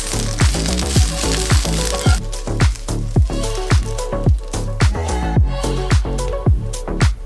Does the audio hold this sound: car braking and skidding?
no